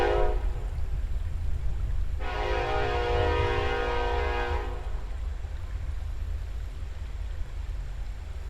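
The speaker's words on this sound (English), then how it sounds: "Nope, we got another train." Freight train rumbling past near a drying creek, a loud steady horn blast sounding for about two and a half seconds over the continuous rail roar.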